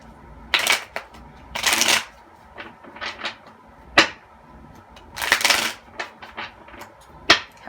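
A tarot deck is shuffled by hand: crisp riffling bursts and soft card slaps come in irregular clusters, close and moderately loud, with no talk over them.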